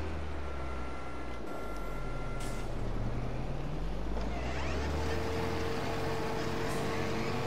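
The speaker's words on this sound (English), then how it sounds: "there's a difference in the engine noises now with small and big one" Combine harvester engine in Farming Simulator 22, a steady low drone that holds throughout, with faint rising and falling tones on top and no talk.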